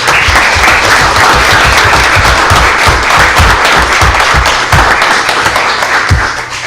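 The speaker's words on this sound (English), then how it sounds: "give a round of applause for all that" An audience at a regular public meeting applauds in a loud, dense, sustained burst of clapping that fades slightly toward the end.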